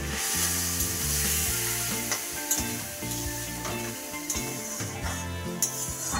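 Ingredients for khichuri frying in a pan, with a loud continuous sizzle and occasional spatula scrapes and knocks against the cookware, steady and close, with no talking.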